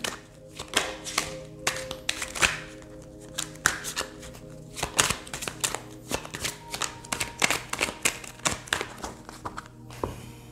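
Tarot cards shuffled and slapped down one after another, a steady run of crisp flicks, taps and soft thuds close by with no talking, ending in a brief rustle.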